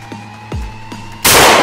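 A gunshot in an anime novel: a few soft thumps and clicks, then one sudden, loud, close blast with a harsh noisy burst at the end.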